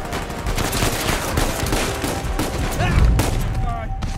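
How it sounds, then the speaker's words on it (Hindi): Rapid bursts of automatic gunfire crackle continuously in an Uncharted 4 PC game firefight, dense and loud, with a heavier boom near the end and someone talking over the shooting. "ओ भाई बड़ी गंदी गोली चला रहे हैं यार।"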